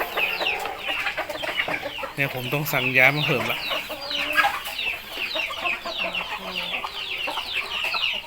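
Chickens cluck busily at evening feeding, a dense flock of close, overlapping clucks and calls with one louder squawk rising above, while someone speaks intermittently over the birds.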